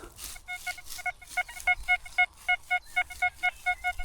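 A metal detector gives a rapid series of short, evenly spaced electronic beeps with a steady pitch over a meadow, close and clear.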